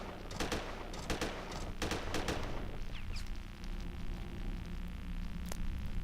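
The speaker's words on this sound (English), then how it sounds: "Fire your machine gun, take him out." Machine gun fire in the space combat game Starfarer: several sharp bursts of shots in quick succession early on, then a steadier low rumble with a few fainter pops.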